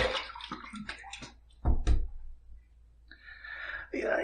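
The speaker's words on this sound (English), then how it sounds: "Let's throw some water on the face," Water splashed onto a man's face by hand just before shaving, heard as a couple of brief, close wet splashes in a quiet bathroom, with soft handling noises before and after.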